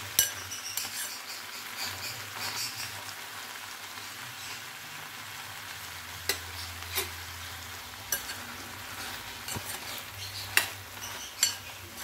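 Spicy dry prawns frying with gongura leaves in a pan, Andhra style, with steady sizzling under repeated stirring and occasional sharp clinks of a utensil against the pan, fairly close and continuous throughout.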